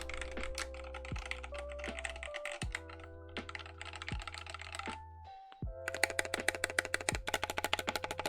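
Close, crisp keystrokes on a mechanical keyboard fitted with chunky GMK keycaps, clacking in quick bursts with a couple of brief pauses, then a faster, louder run of typing near the end.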